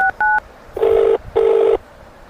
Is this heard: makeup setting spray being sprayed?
no